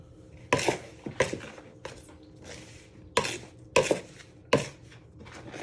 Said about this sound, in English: And then you want to properly bind it together with a knife.